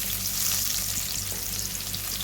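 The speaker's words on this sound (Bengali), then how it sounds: "এরপরে কড়াইতে একটু তেল দিয়ে তার মধ্যে শুকনো লঙ্কা দুটো ভেজে তুলে রাখবো" Dried red chillies fry in oil in a kadai, giving off a dense, continuous sizzle with faint crackles. It is close and steady, with no talking.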